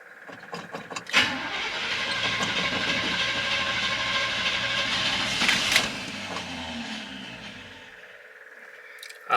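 An old GM truck engine cranks and catches after about a second, then settles into a loud, steady rumbling idle, revs briefly near the middle and then eases down as the sound fades toward the end, with no talking.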